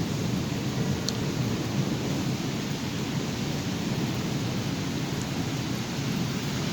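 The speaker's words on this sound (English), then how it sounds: "watching Mother Nature's fantastic show of lightning" Thunderstorm with heavy rain, a continuous dense roar of downpour with low rumbling thunder underneath, steady and fairly loud throughout.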